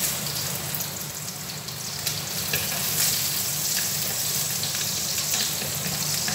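Garlic fries in oil for pancit with tuna, a steady dense sizzle and crackle that holds constant throughout, close and loud with no voices over it.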